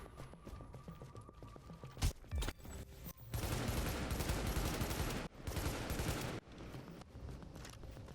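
An SA-58 rifle fires in The Division, several long loud automatic bursts following a few scattered shots and clicks, rattling close amid game effects with no talking.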